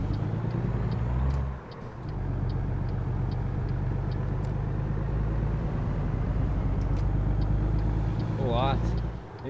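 A truck engine drones in American Truck Simulator while hauling a trailer of cable wheels, a steady loud low rumble that dips briefly before settling back, with faint ticking and a short rising tone near the end.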